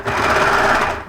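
An overlocker serger runs in one quick, steady burst while stitching a cardigan seam, a loud, close, continuous mechanical whirr and chatter lasting about a second before cutting off.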